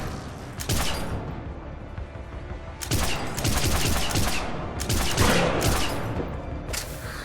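Gunfire in Mass Effect 3, bursts of rapid automatic shots and heavy reports coming in repeated volleys across the scene, loud and dense with brief gaps between.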